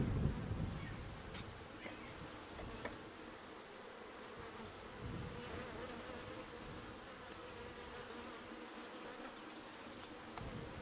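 Honey bees buzz around an open hive frame during colony splitting, a faint steady drone close by with light handling noise and a soft thump at the start.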